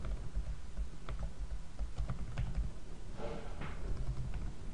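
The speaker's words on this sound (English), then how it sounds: "let me just type it again" A computer keyboard is typed on during a Photoshop session, giving faint, scattered clicks and taps over a steady low background hum.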